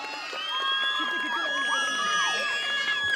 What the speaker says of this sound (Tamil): மக்களே ஒரு பெரிய பெரிய கைத்தட்டல் கொடுத்துடலாம்